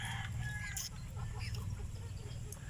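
Heritage free-range chickens cluck and call steadily at close range over a constant low background rumble, with a few sharper calls breaking through.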